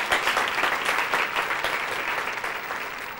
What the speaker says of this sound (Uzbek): Qarsak chalib qo'yinglar ajoyib aktrisaga.